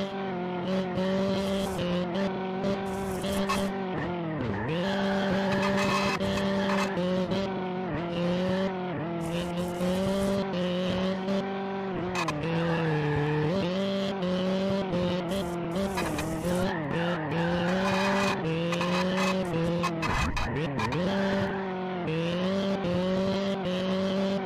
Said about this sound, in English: Racing AI on this cool user-created track by Race League.